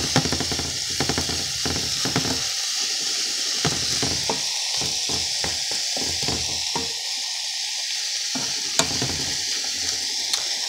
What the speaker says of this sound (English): So now I'm going to kind of stir that.